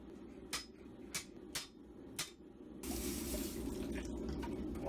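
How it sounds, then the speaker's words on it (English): Water pours and splashes onto a wooden forge floor, a steady broadband rush beginning partway through after several sharp metallic strikes, fairly close and continuous to the end. "Water all over the floor,"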